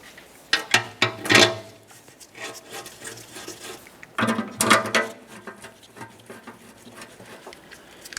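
Oil pan bolts on a 1994-2002 Dodge Ram 2500 being threaded in by hand, heard as close, light metallic clicks and rattles in short bursts with quieter gaps between.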